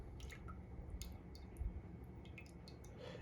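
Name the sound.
pouring lye water into soap mixture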